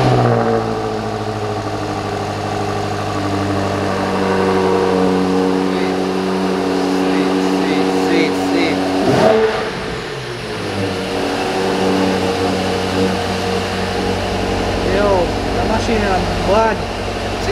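A 2021 BMW X6M Competition's deep engine rumbles loudly, rising and falling as it revs, with a sudden surge midway and people talking over it.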